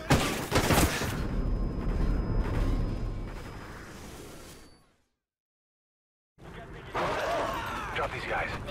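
Video game gunfire from Call of Duty: Ghosts opens with a loud, sharp burst of shots and rumbling battle noise, then fades into a full silence before another dense burst of combat sound returns.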